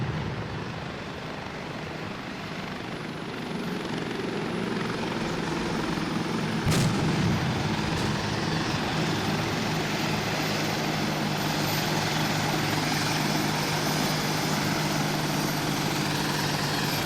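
Helicopter in the Arma 2 video game flying over, a steady rotor and engine drone that swells gradually and stays loud and continuous, with a brief sharp crack partway through.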